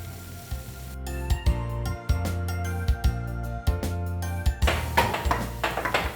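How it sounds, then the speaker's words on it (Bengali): Vegetables sizzle in a little hot oil in a pan while chicken teppanyaki is cooked, with a steady frying hiss under repeated clinks and knocks of a utensil against the pan. "হিট করে নিব এবং ভেজিটেবলগুলো দিব এবং ভেজিটেবলগুলো সুন্দরভাবে স্লাইস করে কাটা হবে"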